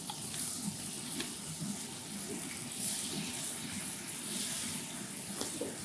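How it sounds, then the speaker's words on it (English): King brown mushrooms sautéing in hot butter in a pan, a steady soft sizzle with faint crackles running evenly throughout, close and moderately quiet. "when we pop them in the pan, we're just going to saute them off to a nice golden brown colour"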